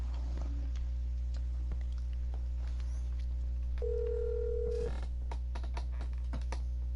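A phone call rings in the baseball video game MLB The Show 17 as one steady electronic tone lasting about a second, set over a constant low hum with scattered clicks around it.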